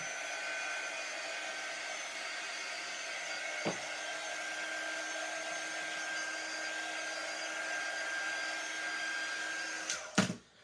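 A hair dryer blows steadily on a painted lemon craft piece, a constant whooshing drone for about ten seconds, with a brief knock midway and a clatter as it cuts off at the end.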